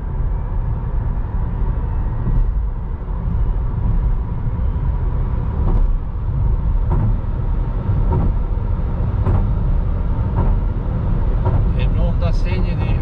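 Inside a Nissan Leaf all-electric car cruising at about 60 km/h in B regenerative mode, a loud, steady road and tyre rumble fills the cabin, with occasional faint clicks and muffled voices.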